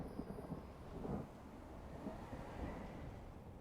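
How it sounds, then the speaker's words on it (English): Low rumbling thunder ambience in the Maw zone of World of Warcraft, a continuous dull roll with swells around the first and third seconds, heard alone without talk. "that's definitely thunder in the Maw"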